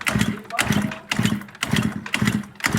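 A moped engine being cranked again and again without catching, a steady series of rough, rhythmic bursts about every half second, close and loud, with people talking over it.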